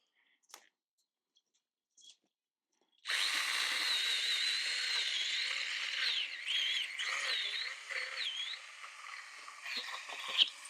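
After a few faint clicks, a Stihl GTA 26 battery pruner whirs up loud and close, its small chain buzzing steadily as it cuts a dangling branch by a path, with the pitch wavering under load.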